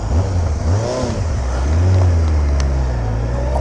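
Motorbike engine revving in cold January weather while the rider struggles with the clutch, a loud, steady, close drone with low engine tones rising and falling in pitch, plus wind rush throughout.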